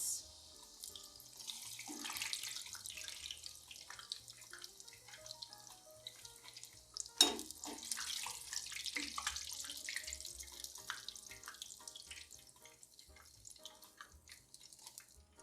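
Struffoli dough fries in hot oil, giving a steady bright sizzle with scattered crackles and pops that swell and fade over several seconds.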